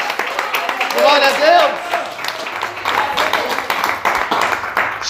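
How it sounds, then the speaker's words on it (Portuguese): A church congregation applauds during an evening service, a busy patter of clapping rising under a preacher's loud, impassioned voice as he continues speaking over it. "Você pode aplaudir e exaltar a esse Deus"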